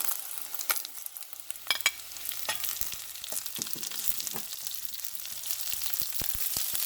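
Chopped ivy gourd (kovakkai) fries in a pan with a steady hiss, and a spoon scrapes and stirs it in short, sharp clicks throughout. No one speaks.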